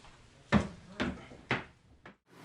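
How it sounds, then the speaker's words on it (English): A door swinging shut during a paranormal investigation in a Durham Region home: four sharp knocking thuds about half a second apart, fairly soft, in a quiet room. "Okay, closing the door."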